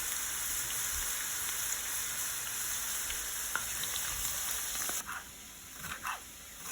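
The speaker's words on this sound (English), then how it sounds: "have the home fries cooking" Home fries frying in a pan give a constant close crackling sizzle, steady throughout, with a few clinks and stirring sounds near the end as the hiss drops slightly.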